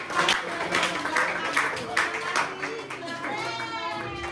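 Classroom applause for a student group fills the space with steady, fairly loud clapping from many hands, mixed with children's voices chattering over it.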